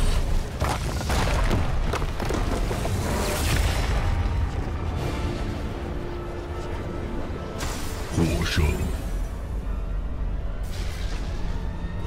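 Cannon fire in a Heroes of the Storm match: repeated heavy booms and bursts crash over dense game effects, with a voice speaking throughout.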